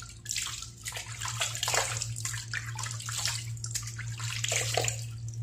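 Lukewarm tap water runs steadily into a sink while preparing to shave with a double-edge safety razor, a continuous close splashing stream with a low steady hum underneath and no talk.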